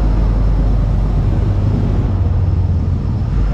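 A Honda 4-stroke engine drives a power sprayer, giving a loud, steady low-pitched drone with a dense mechanical roar that runs unbroken from start to end, with no voices.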